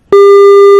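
A telephone busy tone after the red button is pressed, one loud, steady electronic beep starting abruptly and holding for nearly a second, alone and close.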